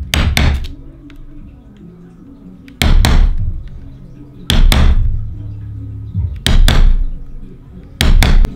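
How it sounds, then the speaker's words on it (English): Five loud, sharp hammer blows punching down on Arcade1Up plexiglass, each a heavy close thwack with a short ringing decay, spaced roughly every one to two seconds with quiet gaps between. "Taking the hammer, punch down"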